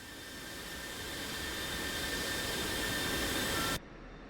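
Steady jet engine roar from an aircraft taxiing in the DCS World flight simulator on a Persian Gulf map, a loud constant whine and rumble that builds slowly and then cuts off sharply near the end.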